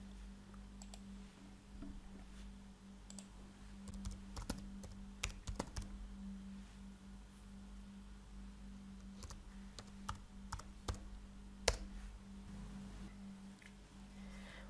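Quiet, irregular bursts of keystrokes on a computer keyboard at a PC, scattered clicks and a few louder taps over a steady low electrical hum, with no speech.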